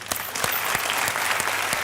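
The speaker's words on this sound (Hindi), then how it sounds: "अरे वाह, तालियां।" Applause from a studio audience on a stage show, a steady dense wash of clapping that stays loud and even throughout with a few sharper individual claps standing out.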